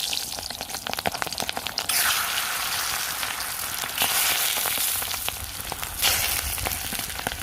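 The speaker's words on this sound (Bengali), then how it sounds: "এবার আমি ডিম ক্যাপসিকামগুলো সব ভেজে নেব।" Egg and capsicum pieces fry in hot oil in a kadai, giving a continuous close sizzle with crackling pops and a few louder surges as pieces are turned. No one speaks.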